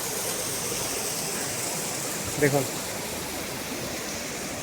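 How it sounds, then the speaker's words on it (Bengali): Rainwater pours down like a small waterfall in a Kerala village, a steady broad rushing hiss throughout, with a brief spoken word in the middle. "ঝর্ণা না অবশ্য আপনার বৃষ্টির জল পড়ছে"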